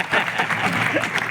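An audience at a Hindi spiritual discourse festival claps in a brief, dense burst of applause, with voices mixed into the crowd noise.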